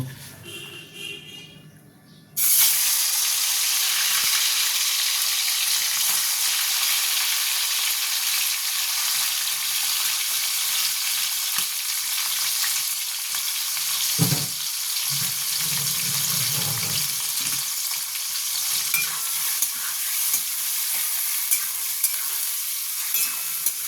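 Shrimp sizzling loudly in a hot pan while it is cooked down for chirer polao, a dense continuous frying hiss that starts abruptly after a brief quiet moment, with occasional stirring scrapes and knocks.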